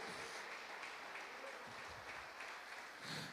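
A church congregation claps during an online worship service. The applause is faint and steady, with scattered voices mixed in.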